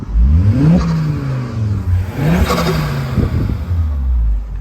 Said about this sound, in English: Exhaust is nice tone to it, give it a little rev